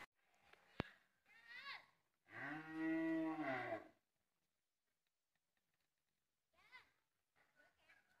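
A cow on a cattle farm in Càng Long, Trà Vinh, Vietnam, where French breed cattle are sold, gives one long, loud, close moo lasting over a second, with brief voices and small noises before and after it.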